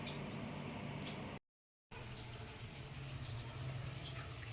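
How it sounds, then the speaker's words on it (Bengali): Warm water poured into a frying pan of spice masala for a potol dorma, a steady watery rush with broadband hiss, broken by a brief silent gap, fairly quiet and close. "এবারে আমি একটু উষ্ণ গরম জল দিয়ে দিচ্ছি"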